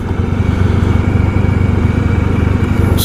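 A 1994 Honda ST1100 motorcycle engine drones loud and steady while riding on the Long Island Expressway, a continuous close rumble with rushing wind noise and no talk.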